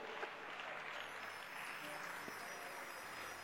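A church congregation claps in a sustained, even wash of applause, faint and distant throughout.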